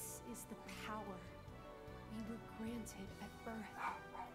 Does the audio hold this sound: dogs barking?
yes